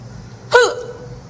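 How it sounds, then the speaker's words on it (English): One sharp, hard hiccup, a sudden loud vocal catch, stands out alone against a quiet room. "because I need to get rid of my hiccups."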